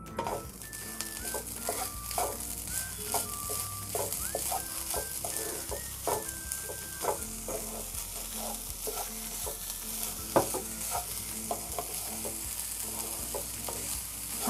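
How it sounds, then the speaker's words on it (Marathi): Grated coconut and sugar are stirred in ghee in a pan, with a continuous soft sizzle under repeated scraping strokes of the spoon against the pan, close up and without speech; faint bird calls sound in the background. "सतत असं ढवळत राहिलं पाहिजे, नाहीतर खाली लागण्याची शक्यता होईल"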